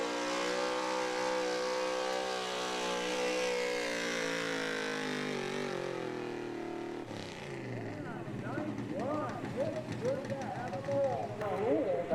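A 1981 Ford pulling truck's engine revs hard and sustains a high, strained roar during a truck pull, then the pitch shifts and crowd and announcer talk join as it fades.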